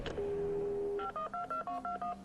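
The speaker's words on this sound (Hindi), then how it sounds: "सदानंद साहब को फोन लगा दीजिए प्लीज" Telephone dialing for a Phone a Friend lifeline on a TV quiz show: a sustained dial tone followed by a rapid series of about seven distinct keypad tones, clear and close.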